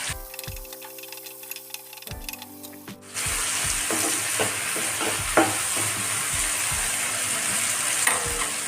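Tomato pieces for an onion masala curry fry and get stirred in a pan, with quiet scraping strokes at first and then a loud, steady sizzle from about three seconds on, punctuated by repeated spatula scrapes and no talking.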